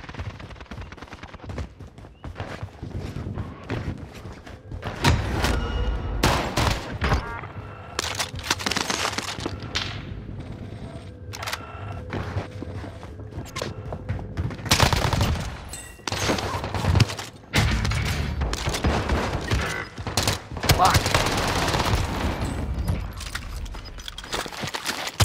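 Gunfire in Call of Duty: Modern Warfare, with repeated loud shots and automatic bursts in irregular volleys, alongside clattering in-game effects, continuing almost throughout.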